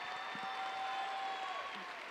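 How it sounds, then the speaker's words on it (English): Brief applause from a graduation ceremony crowd for a student, steady and fairly soft, with a faint tonal hum running underneath. "Let's give Caleb another round of applause."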